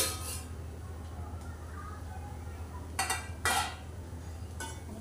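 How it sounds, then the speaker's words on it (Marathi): A metal lid lifted off a tawa pulao pan with a few short clinks and scrapes, the loudest near the end, over a steady low kitchen hum. "झाकण काढूया आपण."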